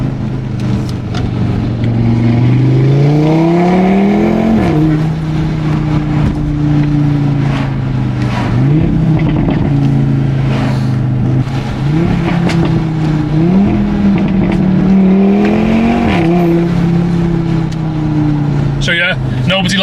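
An Audi RS3 engine loud and close, revving repeatedly as it downshifts from third to first gear, each downshift marked by a sharp rise in pitch, with a voice talking over it.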